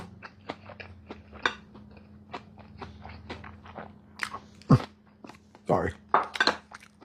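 Crunchy garlic knot bread is bitten and chewed close to the mic, with a few sharp crisp crunches over soft chewing and faint handling noise, in a kitchen setting.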